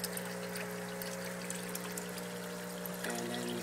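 An aquaponics pump pushing water from the fish tank into grow beds beside a biofilter, a steady motor hum with constant trickling and pouring water close by, unchanging throughout.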